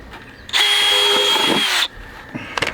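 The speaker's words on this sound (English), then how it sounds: "We're just gonna drill a whole bunch more holes." Power drill boring a hole, likely into wood, a loud close whine that kicks in suddenly, holds steady for just over a second with a slight strain near the end, then cuts off, followed by a quiet clack.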